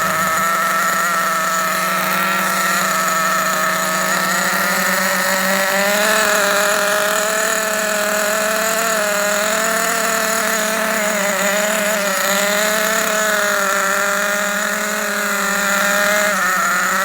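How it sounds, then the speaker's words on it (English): A Losi 8IGHT nitro RC car engine runs during break-in, holding a steady, high, buzzing whine that rises and falls slightly in pitch as the revs creep up, loud and close throughout with no talking. "I'm gonna bring the RPMs up higher. So she's gonna be revving just a little bit higher."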